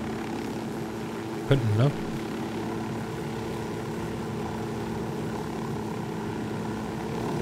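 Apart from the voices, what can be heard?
aircraft flying, video game Ghost Recon Wildlands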